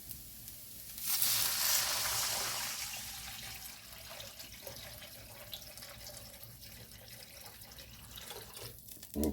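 Water, about four or five cups, poured into a hot ramen pot that was already sizzling. It gives a loud hissing, rushing burst that builds over a couple of seconds, then settles into a steady bubbling simmer. No one speaks.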